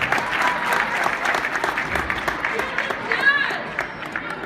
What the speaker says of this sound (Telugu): big round of applause